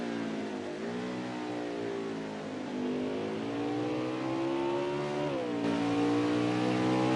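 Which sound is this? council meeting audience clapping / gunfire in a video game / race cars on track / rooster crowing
race cars on track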